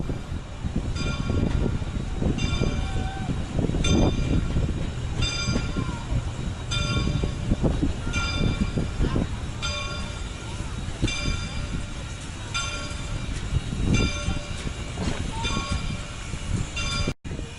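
Locomotive number 425 of the Autumn Leaf Excursion train near Reading, with a steady rumble and rhythmic clanking, hissing and banging of rail equipment over roughly seventeen seconds, heard from close by amid outdoor bustle.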